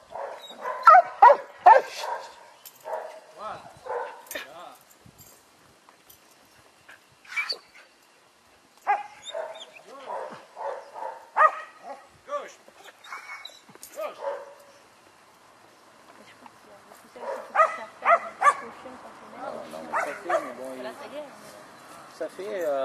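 A female herding dog barks in short bursts while working a flock outdoors, fairly faint and intermittent, with people talking throughout.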